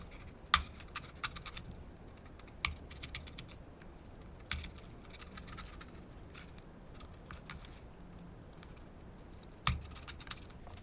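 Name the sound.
craft knife cutting a small rectangle hole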